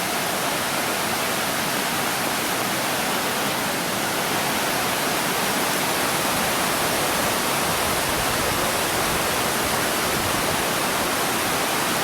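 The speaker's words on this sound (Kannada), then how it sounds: "ಇಲ್ಲಿ ರೈಟಲ್ಲಿ ಇರ್ಪು ಫಾಲ್ಸಿಂದ ಮೇಲ್ಗಡೆಯಿಂದನೇ ನೀರು ಹರಿತಾ ಇದು" Irpu waterfall in Coorg, Kodagu, its water pouring down from above as a loud, steady, broadband roar that fills the whole stretch without a break, with no voices over it.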